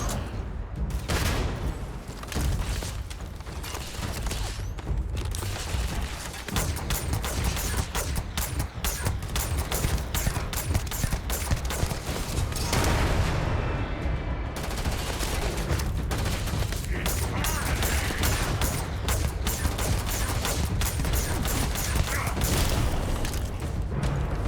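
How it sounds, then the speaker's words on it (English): Grenade blasts and rapid gunfire in a Starfield firefight, a dense, loud, continuous barrage of shots and booms that barely lets up across the whole stretch. "they're chucking grenades at me, though"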